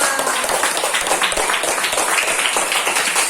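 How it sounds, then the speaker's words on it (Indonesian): A classroom bursts into loud, lively applause during a lesson on the hadith about congregational prayer, a thick, sustained wash of clapping that holds steady from start to finish. "Tepuk tangan yang meriah"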